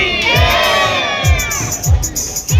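Pilgrims bound for the Naina Devi shrine shout a jaikara chant in unison, a loud crowd of voices rising in repeated rhythmic bursts close by.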